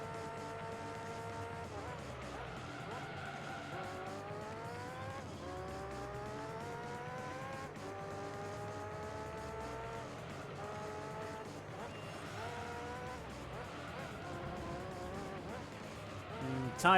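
Tyres squeal on a race car in the Gran Turismo 3 video game, sustained whining skid tones that rise and bend over a steady engine drone, running for long stretches with short breaks.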